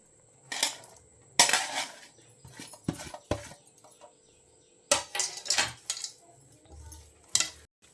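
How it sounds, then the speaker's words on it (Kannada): Aloo paratha stuffing of potato, grated carrot, ginger and coriander being mixed by hand in a bowl, with intermittent clinks and scrapes of utensils against the dish in irregular bursts, close and moderately loud. "ಈ ಥರ ಎಲ್ಲವನ್ನು ಮಿಕ್ಸ್ ಮಾಡಿ ಕಲಸಿಟ್ಕೋಬೇಕು"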